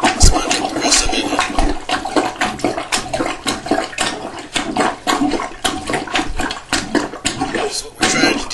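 Water being sponged out of a toilet bowl during a bathroom floor repair, with repeated sloshing and dripping splashes in an uneven rhythm, close and fairly loud, with no talk.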